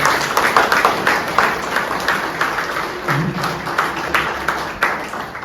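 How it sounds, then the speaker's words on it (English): A crowd at an ISKCON kirtan gathering applauds a newborn girl, a steady patter of many hands clapping at moderate distance, filling the room continuously without voices standing out. "give a big round of applause to the newborn child"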